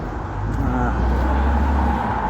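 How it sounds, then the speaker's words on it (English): A bus passes close by on a road, its engine making a deep, steady rumble that fills the moment at a fairly loud, even level. "I guess that's what happens when you pass next to a bus"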